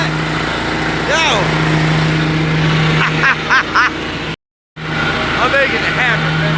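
A zero turn lawn mower engine drones steadily while mowing, a constant low hum with a brief dropout, while someone talks loudly over it in several bursts.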